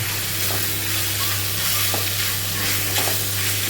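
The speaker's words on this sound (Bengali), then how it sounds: "আস্তে আস্তে ভাজা ভাজা হবে" Chicken mince with green chillies frying in a pan, giving a steady loud sizzle under periodic scraping stirs of a spatula and no voices.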